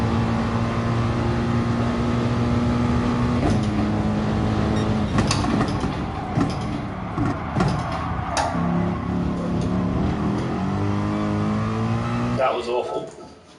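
A race car engine in a racing video game holds a steady high drone, then shifts pitch through gear changes and rises again, with someone talking over it.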